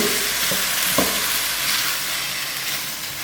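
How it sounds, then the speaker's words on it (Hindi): Boiled, soaked chickpeas for chana chaat are stirred in a pan, a loud close sizzling hiss with a couple of soft scraping knocks, and no voice. "इसको इस तरह मिक्स करेंगे।"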